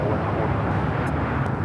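An airliner on pushback from the gate at LAX, a steady broadband engine rumble and roar holding at a constant level throughout, with no voices.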